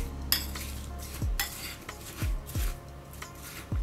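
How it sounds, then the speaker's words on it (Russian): Egg yolks, apple pieces, sugar and vanilla sugar being stirred in a bowl: a few distinct scraping clinks of a utensil against the bowl, spaced irregularly over soft mixing noise, close and moderately quiet. "Высыпаем туда же сахар, немного ванильного сахара и хорошенько все перемешиваем"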